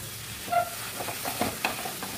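Carrots stirred with date jaggery in a pan, a few soft scraping strokes over a faint sizzle, close and fairly quiet, with no voices.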